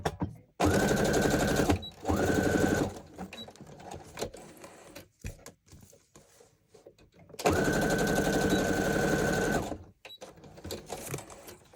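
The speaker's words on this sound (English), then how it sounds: "I'm just going to run a quick stitch down again, just in case." A sewing machine stitches embellishments onto a Halloween journal in two loud, steady bursts of about two seconds each, separated by a quieter gap with handling noises.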